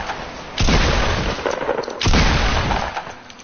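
Video game gunfire erupts in two loud, dense bursts about a second and a half apart, each settling into a sustained rattling din with no voices over it.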